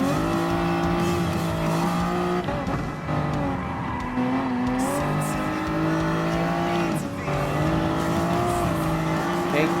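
A Toyota Supra race car in Gran Turismo Sport roars close by, its engine droning steadily with rising and falling revs through gear changes and brief dips, accompanied by faint tire squeal.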